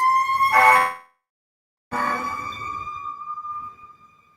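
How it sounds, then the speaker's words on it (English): Fire truck sirens wail loudly outdoors, one cutting off before a second, steady tone starts and fades slowly as the trucks pass by. "So the siren you're hearing, thank God, so it's not just one truck, another one coming."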